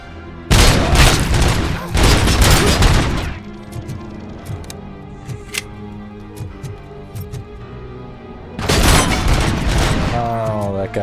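Machine gun fire in a video game, with loud dense bursts of rapid gunfire and booms at the start and end and scattered shots in between, heard under people talking.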